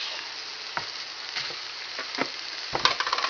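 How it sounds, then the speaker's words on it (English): Sizzling frying pan as noodles go into browned cabbage for low-fat Hungarian cabbage and noodles, a steady hiss broken by a few soft thumps and clinks of food and utensil hitting the pan. "now we're going to add the noodles"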